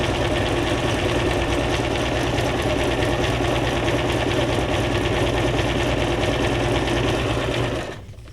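Sewing machine stitching paper ephemera for a junk journal, a fast, even mechanical whir and rattle running loud and continuous at close range, then winding down at the very end.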